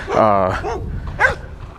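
A dog gives two sharp, loud barks close by, the first one longer and the second one shorter and higher, with a brief pause between them.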